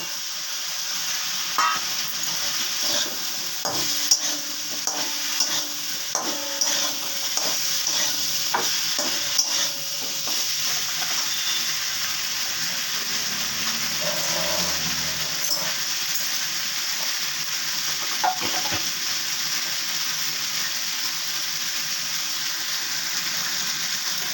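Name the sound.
potatoes and pointed gourd frying in spiced oil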